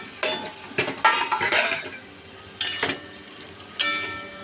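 Taro is sautéed with spices in a pan for a catla fish curry with potato. Several separate bursts of spatula scraping and sizzling come up close, with short pauses between them.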